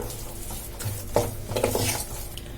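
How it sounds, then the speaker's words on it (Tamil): A masala mixture of ground spices and potato is stirred in a pan for a tea-shop potato snack, giving soft scraping and clinking strokes with a faint sizzle, close and quiet, with no talk. "இப்போ எல்லாத்தையும் நல்லா மிக்ஸ் பண்ணிடலாம்"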